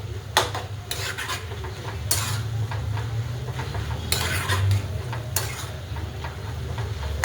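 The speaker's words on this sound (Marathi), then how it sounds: "छान असे हलवून घेऊया." Fenugreek leaf bhaji is stirred in an iron kadhai with a spatula, giving repeated scraping strokes in bursts over a steady low hum, close and fairly loud with no talking.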